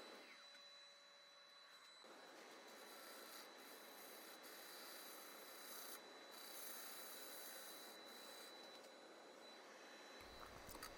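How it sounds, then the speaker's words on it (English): A negative rake scraper rubs steadily against a large square wooden bowl spinning on a lathe, giving a continuous faint rasping scrape that runs for several seconds and then stops. "I'm just going to use a negative rake scraper in along here, and that'll just clean up any of these little lines"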